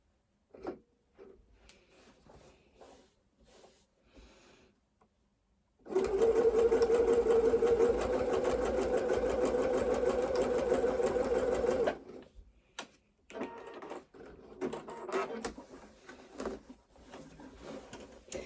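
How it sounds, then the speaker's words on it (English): A sewing machine stitches a small zigzag bar tack on a pair of shorts: about six seconds of rapid, even mechanical stitching, framed by quieter handling clicks and rustles. "we're actually going to do a little bar tack there. So just a very small zigzag back and forth"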